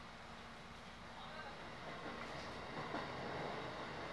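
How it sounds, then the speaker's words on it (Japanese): Steady low rumble of a Kakogawa Line train pulling away from Kakogawa, heard from inside, with faint rail clatter building gradually, fairly quiet and continuous throughout. "発車します。"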